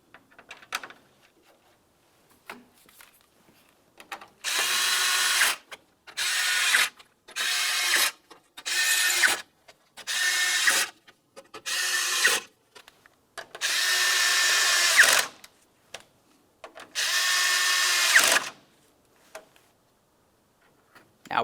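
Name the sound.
power drill driving 5.5mm radiator mounting screws, Ford Flex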